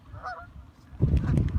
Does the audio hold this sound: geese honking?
yes